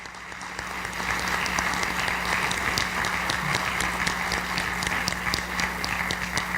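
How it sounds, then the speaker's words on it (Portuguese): An auditorium audience at a lecture on a constitution anniversary applauds, a sustained dense wave of clapping that rises in the first second and holds steady and fairly loud throughout, with a low steady hum underneath. "eu gostaria de pedir ao auditório uma nova salva de palmas a todos os constituintes maranhenses"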